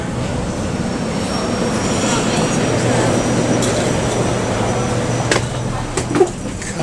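Steady rumbling cabin noise of a moving conventional, not high-speed, train in China, with a low hum, occasional clunks and rattles, and faint voices murmuring in the background.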